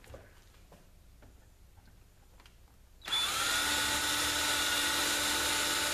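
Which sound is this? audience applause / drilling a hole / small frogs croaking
drilling a hole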